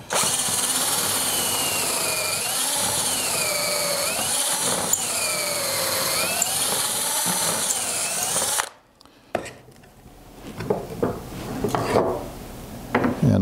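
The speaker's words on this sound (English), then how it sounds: "use a half inch drill for these half inch dowels" A half-inch drill boring dowel holes into wood through a dowel jig, a loud sustained whine that rises and falls as the bit bites, then cuts off and gives way to quieter scraping and handling.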